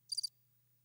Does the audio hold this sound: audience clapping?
no